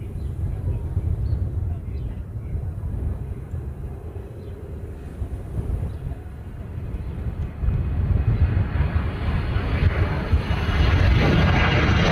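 An Air Med aircraft passes over Honolulu airport during sunset plane spotting in Hawaii, a broad low engine roar that swells louder toward the end, with faint talk underneath.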